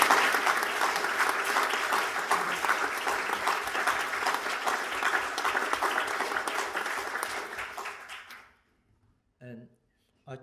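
A conference audience gives sustained applause for the organisers, a broad wash of many hands clapping for about eight seconds before cutting off, followed by a brief murmur of voices.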